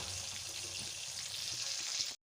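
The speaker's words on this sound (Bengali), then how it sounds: "মাছের উল্টো পিঠটা ভাজা হওয়া পর্যন্ত কিছুক্ষণ অপেক্ষা করব" Catla fish pieces frying in hot oil for a doi katla curry, giving a steady, even sizzle that runs close and constant, then cuts off abruptly at the end.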